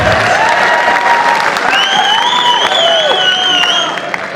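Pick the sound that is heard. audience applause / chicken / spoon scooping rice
audience applause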